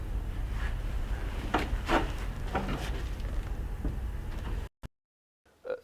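A door opens slowly and secretively, with quiet creaks and a few soft wooden clicks over a low, steady background, then a sudden drop into near silence near the end.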